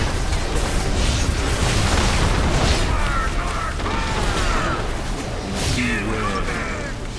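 Artillery explosions in a video game, dense rumbling booms layered over constant loud battle noise, with a voice talking over it.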